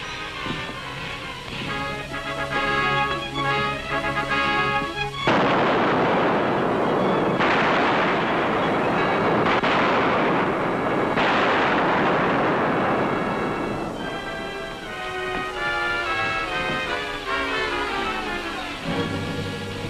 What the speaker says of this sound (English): What did those shots mean?